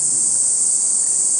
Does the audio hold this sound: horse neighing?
no